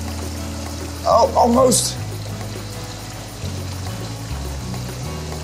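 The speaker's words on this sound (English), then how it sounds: "There's another waterfall there." Water pours steadily down a small waterfall at a children's water play area, a continuous close splashing rush, with a voice speaking briefly over it near the start.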